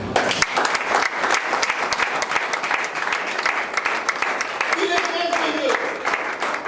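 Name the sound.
congregation applauding and cheering the Lord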